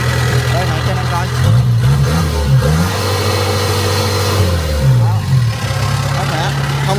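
A 2020 Kubota DC70 combine harvester with its original engine runs steadily nearby, a loud low droning hum with slight pitch shifts, while someone talks over it.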